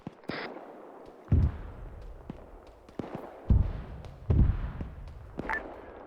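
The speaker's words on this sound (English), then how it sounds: "Mortar's landing outside the fence line." Mortar rounds land outside a fence line, making a series of deep, booming impacts spread over several seconds, with sharper distant cracks in between, heard at a moderate distance over steady background noise.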